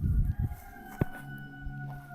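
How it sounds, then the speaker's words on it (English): Backyard chickens squawking and screeching in agitated bursts, loudest at the start with a sharp cry near the middle, fading into lower clucking and ambient noise. "Those are my chickens screaming now."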